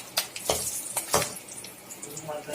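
An egg fries in oil in a home kitchen pan while being prepared for Assamese-style egg curry, with a soft steady sizzle broken by a few sharp spatula scrapes and clinks against the pan.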